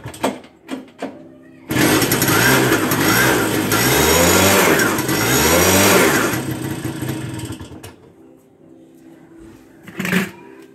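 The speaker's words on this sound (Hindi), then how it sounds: "सो मैं यहाँ पर एक बार स्टार्ट देकर देख रहा हूँ।" A TVS XL moped engine, its spark plug freshly cleaned, starts and revs loudly up close for about six seconds before dropping away, with a few clicks before and after.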